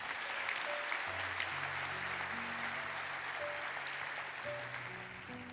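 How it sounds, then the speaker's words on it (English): Soft, steady applause from a conference audience, heard from a distance as a continuous wash of clapping, with low tonal hum and faint background sounds running beneath it. "Can we give it another round of applause?"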